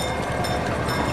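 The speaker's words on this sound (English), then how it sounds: "Oh, look, a train's coming." A train rumbles past outdoors on a family field trip, a steady broadband roar with a constant hum, continuous and fairly loud through the whole second with no voices.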